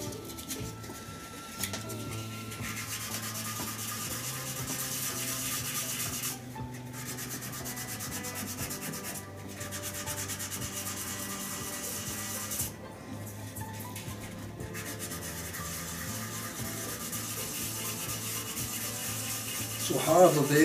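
An epoxy resin shaving brush handle is sanded by hand with sandpaper, producing a continuous close rasping scrub with rhythmic strokes and a few brief pauses, running for about twenty seconds with no talking.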